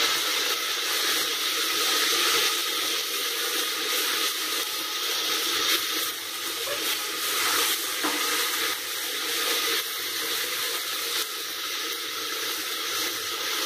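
Ginger garlic paste and whole spices sizzling in hot oil for an Indian chicken korma, a steady bright hiss and crackle at moderate level, continuous with no talking.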